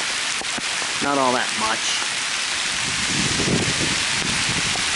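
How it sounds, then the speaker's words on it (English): Heavy rain pours down in downtown Leominster during Hurricane Sandy, a constant loud hiss with some wind underneath, while someone speaks briefly over it. "It's just the rain getting harder."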